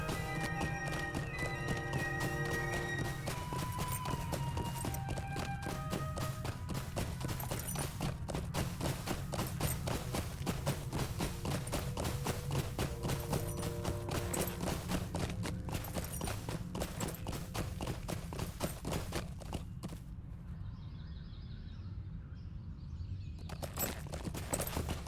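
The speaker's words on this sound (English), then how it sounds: "Ah, the Eriador horse." Hooves of an Eriador horse in the online game LOTRO clip-clop in a fast steady rhythm through the whole stretch, heard faintly over background music.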